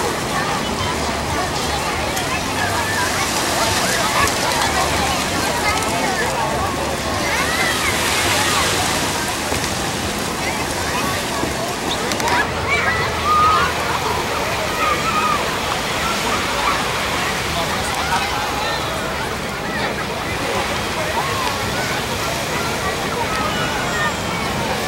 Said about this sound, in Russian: Тихий океан сегодня спокойный, в канун Рождества.